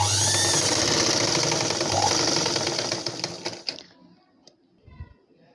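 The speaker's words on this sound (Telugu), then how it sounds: "మనకి స్టార్టింగ్ ఎండింగ్ కూడా మనకి కుట్లు ఊడిపోకుండా వెనక్కి ముందుకి ఈ విధంగా స్టిచ్ చేసుకోవాలి" An electric sewing machine running steadily as it stitches the back piece of a blouse, a continuous fast whirring that slows and stops near the end, followed by faint fabric handling.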